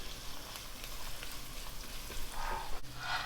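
Baby potatoes sauté in oil on a low flame, a soft continuous sizzle with faint crackles and a light stir near the end, quiet and close with no voices.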